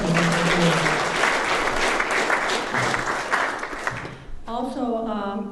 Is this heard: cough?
no